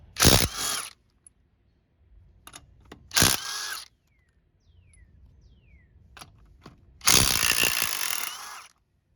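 An impact wrench or ratchet works a lug nut off a Ford Ranger front wheel, several loud bursts of rapid mechanical rattling with quieter clicks and gaps between them.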